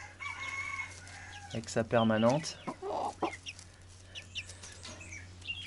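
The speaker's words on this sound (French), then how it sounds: "Le petit blanc, là, c'est un petit coq." Chickens cluck close by, including a young white rooster and an Araucana hen, with a burst of loud crowing-like squawks in the middle and someone speaking softly in between.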